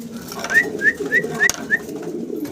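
Danish indigo pigeons, a male and a female, give a series of five soft rising coos in a steady rhythm, close by, over a low murmur of background noise.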